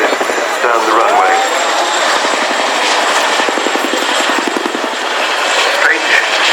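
A Boeing Chinook twin-rotor helicopter flies a display at Cosford Airshow 2015, its loud, steady rotor thrum and turbine whine filling the air with rhythmic blade slap, while an announcer talks over the PA.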